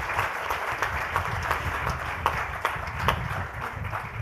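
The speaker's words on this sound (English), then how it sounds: "This is really a big round of applause for them" An audience at a forum in Guwahati, Assam claps for dancers, fairly quiet and somewhat sparse applause with audible individual claps and a low room rumble underneath.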